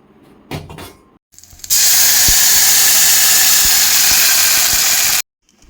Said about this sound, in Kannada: ಈಗ ಒಗ್ಗರಣೆ ಹಾಕೋಣ